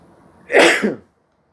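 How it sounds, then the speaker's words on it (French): A single sharp sneeze, close and fairly loud, a quick intake then a bright burst that fades within half a second, surrounded by near silence. "Excusez-moi, je vais éternuer."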